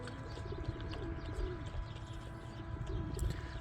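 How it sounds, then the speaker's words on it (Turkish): Soft pigeon cooing in a steady outdoor bed of background noise, several low murmuring calls spread across the clip, moderately distant. "Bu kuş arkadaşlarımız da var."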